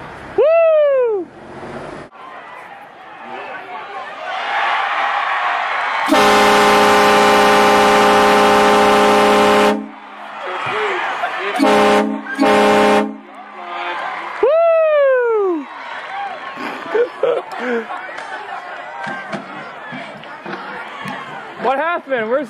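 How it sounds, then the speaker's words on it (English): A bicycle-mounted train horn blares one long, loud, steady blast of several seconds on a city street, with shouting, whooping and excited voices before and after it. "Bicycle train horns. You put that fucking thing on your bike."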